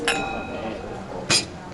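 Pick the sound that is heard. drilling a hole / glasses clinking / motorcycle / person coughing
glasses clinking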